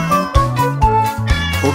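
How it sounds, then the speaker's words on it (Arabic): In a children's song about a grandfather's farm cat and her kittens, a cat meows repeatedly over a bouncy musical backing, each meow short and rising, loud and close. "عنده قطة اسمها شطة ولدت قطة وقطة وقطة"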